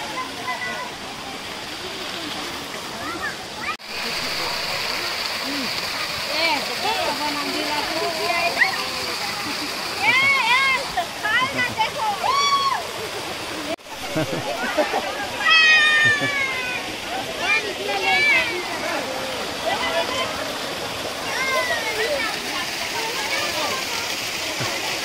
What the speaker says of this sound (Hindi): यही है हमारा नाकटोका वाटरफॉल।